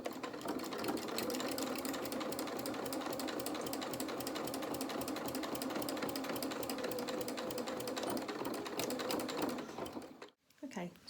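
A sewing machine runs continuously, stitching dungarees in a fast, even rattle of needle strokes that stops abruptly near the end; the sound is quiet and close.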